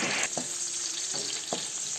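Sliced onion and garlic frying in hot oil in a pan for pancit guisado, a steady broadband sizzle with a few soft clinks and stirs, close and continuous, no talk.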